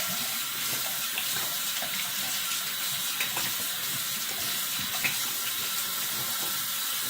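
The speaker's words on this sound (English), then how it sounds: "I'm just gonna go ahead and rinse this off" Tap water runs steadily into a sink while a kamisori straight razor is rinsed off, a loud close gushing hiss with faint splashes and no talking.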